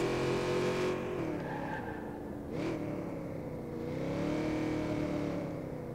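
A car driven in Watch Dogs 2 on PS4: a steady, loud engine drone that rises and falls with acceleration, with a brief tire squeal partway through and no voices.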